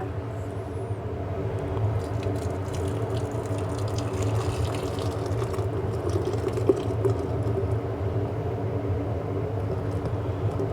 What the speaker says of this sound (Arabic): هنجيب المصفى بتاعتنا اهي ونصفي الليمون بتاعنا